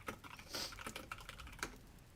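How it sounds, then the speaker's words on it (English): Rapid, irregular clatter of keys on a computer keyboard, close and fairly quiet, with uneven bursts of keystrokes and no talking. "Now my keyboard's not working."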